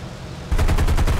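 Aircraft machine gun in the War Thunder video game, a sudden loud burst of rapid, evenly spaced shots starting midway after quieter engine drone.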